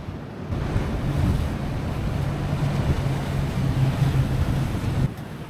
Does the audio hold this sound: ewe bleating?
no